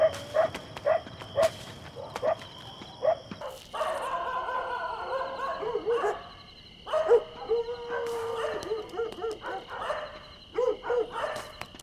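A distant dog howls and whimpers within a film sound mix, giving several drawn-out, wavering cries with short yips between them, heard alone without talk.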